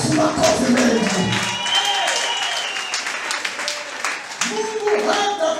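A church congregation breaks into dense, sustained clapping that slowly thins and then picks up again, with voices speaking and calling out over it.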